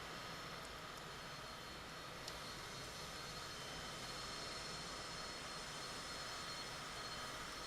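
Aircraft engines spool up as the throttles are pushed forward in Microsoft Flight Simulator, a faint, steady jet drone that holds evenly without breaks.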